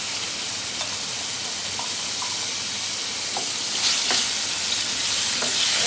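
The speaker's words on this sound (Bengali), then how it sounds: "আলুটাকে ভেজে নেব" Potatoes fry in a pan over a low gas flame for a home-style fish curry with green banana, giving a steady close sizzle with faint crackles and no talking.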